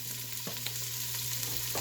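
Onions frying with linguiça sizzle steadily in a pan while being stirred, a soft, continuous crackle with a couple of faint scrapes.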